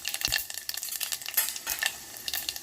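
Chana dal, urad dal and peanuts stir and sizzle in hot oil with mustard and cumin seeds, a close, crackly frying hiss broken by scraping stirs, with no voices.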